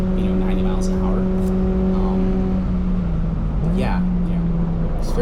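A stock Mazda Miata race car running down a track straightaway, a steady engine drone with a sustained tone that dips and shifts near the end.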